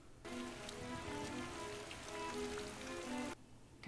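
Rain falls steadily in a science-fiction TV episode, a close, continuous patter with faint tones threaded through it, cutting off abruptly near the end.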